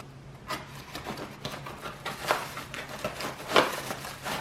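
Snips cutting into the packaging of a Narrak electric bike, close scraping and rubbing with several sharp cuts, the loudest near the end.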